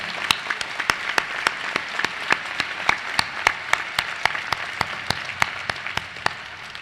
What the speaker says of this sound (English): Let's have one more warm round of applause for Dr. Giuttani's truly inspiring commencement address.